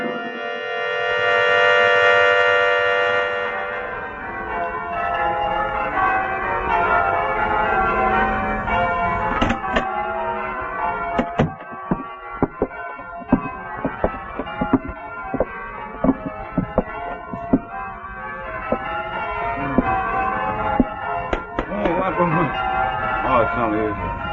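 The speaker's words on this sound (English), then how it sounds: "did you hear the bell, Sarge? The war is over." Church bell tolling in an old-time radio suspense drama, a resonant ring at the start fading under dialogue, followed by sharp knocks and clatter while voices talk over it.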